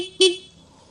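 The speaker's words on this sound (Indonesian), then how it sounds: "kemudian klakson, bunyinya seperti ini." A short, single honk from a Honda ADV 160 scooter horn, bright and close, lasting a fraction of a second before fading into quiet.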